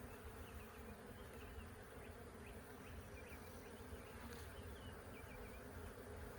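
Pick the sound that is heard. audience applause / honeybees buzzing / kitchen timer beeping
honeybees buzzing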